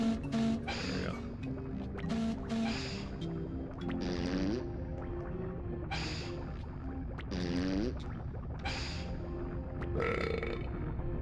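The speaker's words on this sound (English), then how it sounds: "Burp. We heard that, right?" A burp comes from the video game Donkey Kong 64 amid busy game music and effects. Several gurgling, croaky bursts recur through the stretch, fairly loud and mixed into the background sound.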